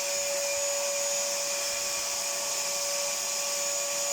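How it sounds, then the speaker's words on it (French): A vacuum cleaner cleaning out the inside of a Rika Evo Aqua pellet stove, a loud, steady, close whine with a high tonal hum, running without a break and with no voices. "aspirer tout l'intérieur."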